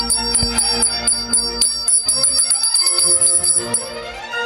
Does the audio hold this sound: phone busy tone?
no